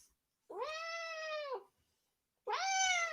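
A cat gives two loud, drawn-out meows close by, each about a second long with a short silence between them, and nothing else is heard.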